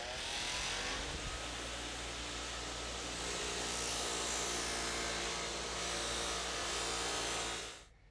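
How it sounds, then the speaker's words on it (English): A buffing motor spins a spiral sewn buff loaded with stainless cutting compound against Pontiac Firebird car paint; a loud, steady whirring grind holds for about eight seconds before winding down at the end, with no voices. "You start with a more aggressive wheel like this spiral sewn buff, using a stainless compound as a cutter."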